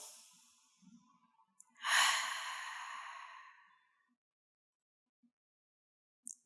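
A single long, slow exhale during a standing mountain pose in a chair yoga session, soft and close, with a faint breath before it and quiet stillness after.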